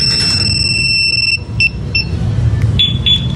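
A motorcycle security alarm on a Rusi Raider 150 FI sounds a piercing electronic tone steadily, then chirps in short bursts before cutting out, over a low idling engine rumble nearby.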